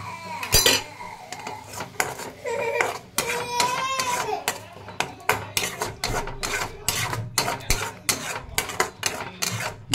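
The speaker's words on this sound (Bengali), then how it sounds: "এবার টমেটোটাকে একটু কষবো।" Tomato paste with spices being stirred in a pan, with repeated scraping and clinking of a metal utensil against the pan and a soft sizzle underneath, occasional speech faintly present.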